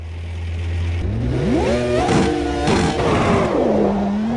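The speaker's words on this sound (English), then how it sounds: "listen to the F1 V10 Gen 2" An F1 V10 Gen 2 engine in the racing sim AMS2 revs hard through rising, falling sweeps after a low hum, its screaming note climbing and dropping repeatedly through gear changes, loud and close throughout.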